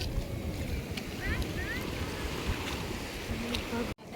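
Wind buffets the microphone at a seashore near a temple and a windmill, with the low rush of waves beneath. Faint voices and a brief chirp come through the steady noise.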